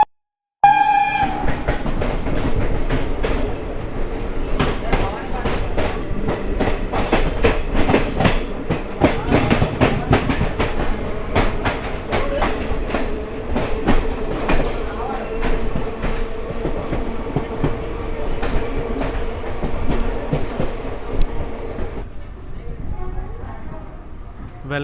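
Clickety-clack from a Visakhapatnam–Parvatipuram MEMU express passenger train running on the track, a loud, continuous roar with rhythmic wheel clatter heard from on board, a short horn-like tone at the start, fading at the end.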